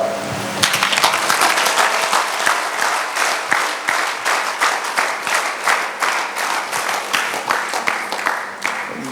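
An audience at a church teaching service breaks into sustained applause, dense clapping that rises sharply and then continues in rhythmic waves, fairly loud and close, with faint voices mixed in.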